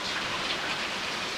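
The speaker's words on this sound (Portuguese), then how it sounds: "Tomara que a chuva não esteja tão forte aí, esteja abafando mais o áudio de vocês" Steady, even rainfall from the game Silent Hill Downpour, a constant hiss of drops with no breaks and no voices.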